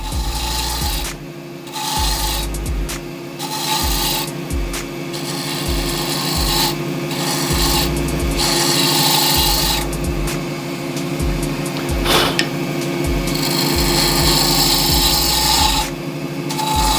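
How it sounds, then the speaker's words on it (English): A woodturning tool scrapes over a spinning African Zebrano pen blank on a lathe, knocking against the pen bushing, with a constant motor hum under rhythmic rasping bursts. "That's me hitting the bushing there that you can hear."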